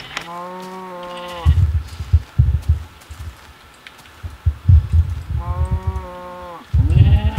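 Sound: sheep bleating in a video game

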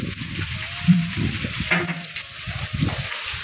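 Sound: hail falling

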